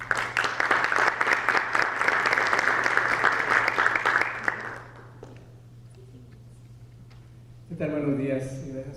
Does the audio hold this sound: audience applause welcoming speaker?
yes